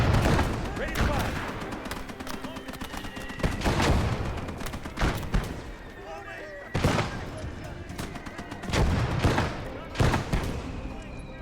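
Gunfire in the World War II tank game Gates of Hell, with several loud broadband bursts and booms spread through the clip over a steady battle din, some nearby and some farther off, under occasional talk.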